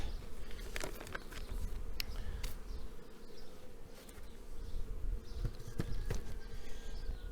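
Honeybees buzzing loudly and continuously around an open beehive as it is being closed, with scattered knocks and scrapes of the hive parts close by.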